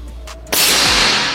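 A single sharp crack from a PCP air rifle, sudden and loud after a quiet stretch, followed by a short ringing tail and a low thump that fade within the second.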